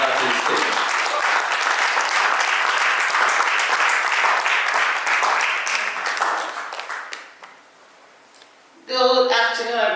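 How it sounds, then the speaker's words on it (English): Seminar audience applauding a speaker being invited to the stage, a dense, steady round of clapping that fades out near the end before a voice starts speaking. "Everyone, please, kindly give her a round of applause as we invite her to the stage."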